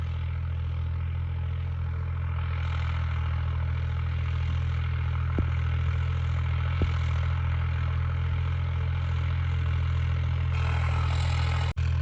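A modified tractor pulling a cultivator in a paddy field runs with a steady, loud, low engine drone, near and unbroken, with a couple of faint knocks and a slight lift in pitch near the end.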